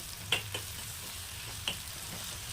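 Gongura leaves fry in a generous pour of cooking oil, giving a low steady sizzle with a few sharp crackles and pops, close by and fairly quiet.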